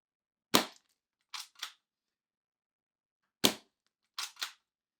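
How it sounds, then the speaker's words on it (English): A G&G LevAR airsoft gun fires six sharp, snappy shots at close range, one, then two close together, a pause, then one more and another quick pair, with silence between them. "now that I have this installed, I'm just going to shoot it again"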